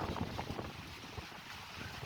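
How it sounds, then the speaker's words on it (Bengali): Strong cyclone wind rumbles and buffets the microphone in a continuous dense roar, close and rough, lasting only a couple of seconds with no voices. "বাতাস একবার ঝড়ের বেগে বাতাস মানে ঘূর্ণিঝড় প্রচুর বাতাস"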